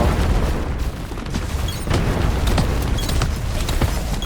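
Grenade blasts and heavy combat in the video game Pax Autocratica, a dense, loud wash of booming explosions and gunfire crackle with repeated sharp bursts throughout.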